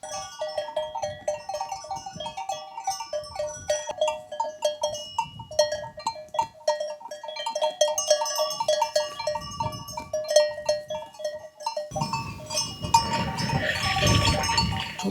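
A flock of sheep on a mountainside makes clinking, ringing bell tones mixed with scattered bleats. A rougher burst of wind or movement noise comes near the end.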